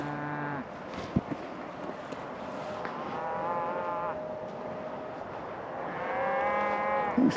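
Cattle moo repeatedly around a falconer exercising a gyrfalcon after its molt, several drawn-out calls at close range, one at the start and others near the middle and end, over faint outdoor background noise.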